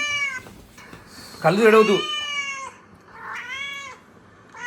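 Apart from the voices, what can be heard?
cat meowing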